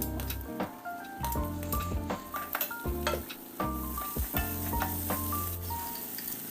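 Chopped tomatoes going into sautéed onion in a pan while cooking sambar, with a steady loud sizzle and frying hiss broken by clinks and scrapes of stirring throughout.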